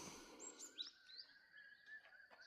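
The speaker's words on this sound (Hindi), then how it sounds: "मैं तो कोयल की समझता था, लेकिन ये हॉक कुकू ऐसा के लोगों ने बताया है" Hawk cuckoo calling in the jungle beneath Manikoot mountain: a few faint, high whistled notes rising and sliding, fairly distant against a quiet background.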